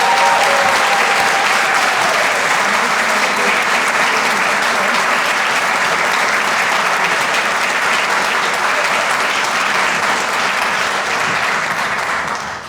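A luncheon crowd at a mayor's business event applauds for a Woman of Excellence award recipient, a loud, full, sustained burst of clapping that keeps going for over twelve seconds before easing off.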